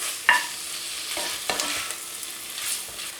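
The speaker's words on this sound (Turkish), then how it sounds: "domateslerimi ilave ediyorum. Biraz kavuracağım." Tomatoes added to peppers and garlic sautéing in a pan for a dried eggplant dish, a steady bright sizzle with a sharp clatter near the start and several soft stirring scrapes, no voices.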